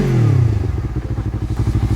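A motorcycle engine idling in neutral after a quick rev, loud and close, the pitch dropping as the blip fades into a steady, rapid, throbbing idle pulse.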